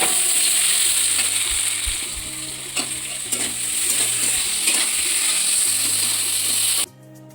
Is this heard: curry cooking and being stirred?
yes